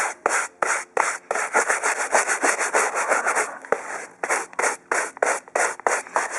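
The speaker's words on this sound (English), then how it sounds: "the bristles are pretty strong, and this is the key to getting all the mud off of your boots" A stiff-bristled brush scrubs mud off soccer cleats in quick, repeated rasping strokes, loud and close, with brief pauses between bursts and no talking.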